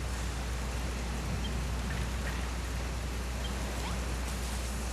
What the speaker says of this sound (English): It's a little rain.